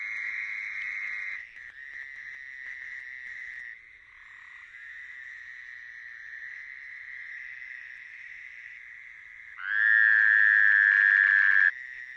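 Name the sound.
Fowler toad calling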